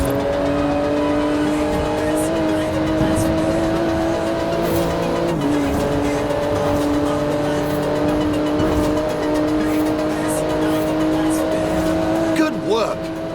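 A car in Forza Horizon 4 brakes hard on carbon ceramic brakes at the end of a run, a loud steady engine drone with tire squeal, closing in a brief skid and settling.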